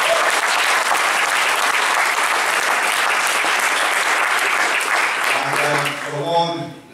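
Audience applause fills a cinema at a film festival, a dense, loud, steady clapping that carries for most of the stretch before thinning out and fading, with a few voices emerging near the end.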